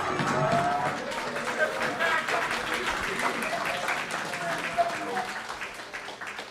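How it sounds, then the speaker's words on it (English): An audience at a reading by an author cheers and applauds, a continuous crowd of clapping and shouts with voices mixed in throughout. "Everyone starts cheering, and I love it."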